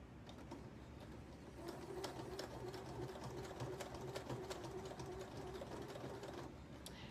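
A sewing machine runs steadily while back stitching the hem of a jean skirt, a quiet continuous mechanical whir with rapid needle ticking that speeds up slightly partway through.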